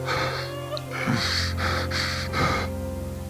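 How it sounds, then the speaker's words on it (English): Heavy, rasping breaths from a person in a dark stairwell, several close gasping inhalations and exhalations in succession that grow slightly louder, over a steady low hum. "D-1935's breathing grows louder."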